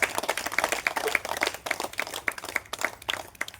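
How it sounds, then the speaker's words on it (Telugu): An audience claps in a steady, rhythmic beat, moderately faint, with no talking over it. "గట్టిగా క్లాప్స్ కొట్టండి."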